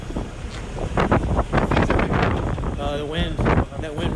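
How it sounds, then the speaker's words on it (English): Strong gusts buffet the microphone outdoors beside a 1987 Mitsubishi Lancer 1800 EX GSR Intercooler Turbo in Japan, a loud, continuous low rumble with bursts throughout, while people talk underneath. "That wind right now."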